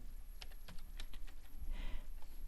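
A computer keyboard typing out a short word: a handful of soft, faint keystrokes at an uneven pace over a low background hum.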